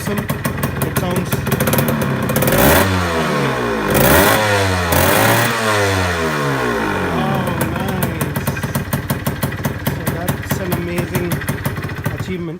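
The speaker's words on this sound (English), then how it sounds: "But the bike sounds awesome." A Suzuki Shogun motorcycle engine runs after its first start, holding a loud, steady idle with a brief series of revs near the middle, close and constant throughout.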